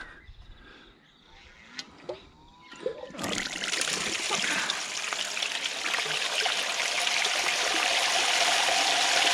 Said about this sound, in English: I can just pour the last of that in.